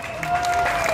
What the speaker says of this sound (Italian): Un grossissimo applauso.